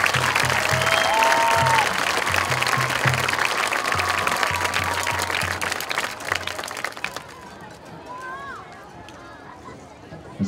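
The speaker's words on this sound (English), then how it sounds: "All right, let's have another round of applause for all our candidates on court." A high school football crowd applauds the homecoming court at halftime, sustained clapping and cheering in the stands while an announcer speaks over a public address system, the applause thinning toward the end.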